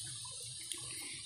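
Water in a stream is stirred by hand to clear muddy water, giving a soft, steady washing and swishing with faint trickles, heard alone at low volume.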